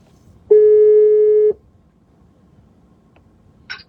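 A single steady telephone ringback tone sounds for about a second on an outgoing call, clear and close against faint background noise, then silence follows.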